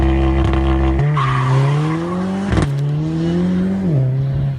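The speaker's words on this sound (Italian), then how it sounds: "Questo è solo lo scarico performance AMG." A Mercedes-AMG car with an AMG performance exhaust, loud and close, its engine note holding a steady drone with a couple of quick shifts in pitch, no voices.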